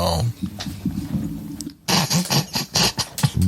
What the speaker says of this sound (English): if you hear bag crunching and somebody snacking on something